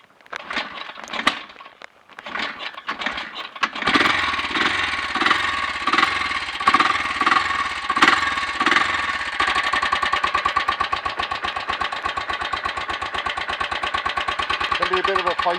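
A BSA B44 Shooting Star single-cylinder motorcycle is kicked over a few times with sharp bursts, then fires up and settles into a loud, steady thumping idle close by.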